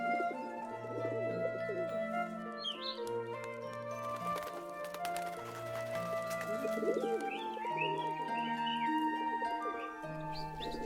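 Doves coo in repeated low phrases alongside chirping and twittering of other birds, a layered sound-effect backdrop for a fairy tale, steady and fairly close with no voices.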